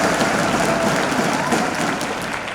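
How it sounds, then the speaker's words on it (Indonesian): Applause from a large audience at a corporate anniversary celebration, dense steady clapping that fills the whole moment at full volume. "Aplaus untuk kita semuanya"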